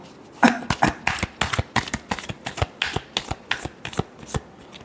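Tarot cards being shuffled by hand, a rapid run of crisp riffling flicks and slaps repeating in a steady rhythm, close and fairly loud with no talking.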